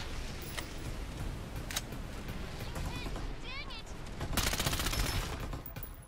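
Gunfire rattles in the shooter video game Farlight 84 during a match against bots. Dense, continuous shots and bursts carry on throughout, with a louder volley toward the end and a faint chirping effect in the middle.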